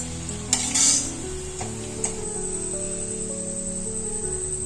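Palm fruit fritters, taler fuluri, deep-frying in hot oil with a steady close bubbling sizzle, a couple of brief utensil clinks early on, and a thin high whine running underneath, no voices.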